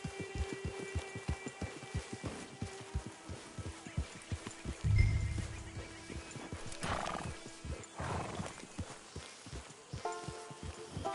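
A horse in a PS4 video game clip-clops at a steady rhythmic gait, snorting and letting out a loud whinny midway, with faint game ambience behind the hoofbeats.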